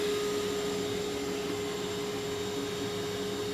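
A reversed ShopVac blows air into a car exhaust while hunting an exhaust leak near the manifold, a steady, loud broadband whoosh with a constant motor whine that holds unchanged throughout.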